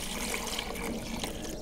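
Water pours from a one-litre jug into a Vevor ice maker, a close, steady trickling splash through the whole short stretch, with no voices.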